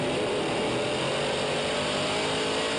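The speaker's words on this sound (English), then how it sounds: "Notice how early they lift and how much he stomps on the brakes there" A dirt track race car at Fulton Speedway's Outlaw 200 lifts off the throttle and brakes, a loud, steady engine roar held close throughout with no distinct pause.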